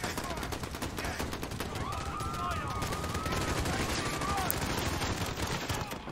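Continuous muffled automatic gunfire in Call of Duty Modern Warfare's campaign rattles as a dense, even stream of rapid shots, moderately loud and unbroken throughout.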